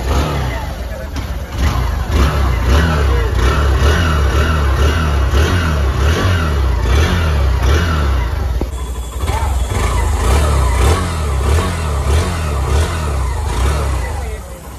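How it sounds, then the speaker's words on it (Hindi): A 2023 Hero Glamour 125 motorcycle's exhaust, the engine idling and repeatedly revved, a loud, close, throaty putter rising and falling with a brief dip midway, with a voice speaking over it. "एक बार मैं आपको गाड़ी की एग्जॉस्ट साउंड चेक करा देता"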